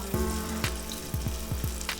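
Vegetables for Salvadoran beef soup (sopa de res) frying in hot oil, a steady close sizzle with repeated bubbling bursts and soft knocks as pieces go in, no talking.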